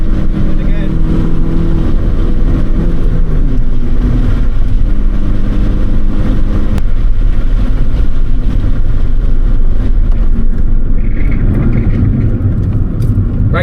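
Heard from inside a moving Proton Satria GTi, the engine drones loudly and steadily, bogging with uneven surges under road and cabin noise, and no one speaks.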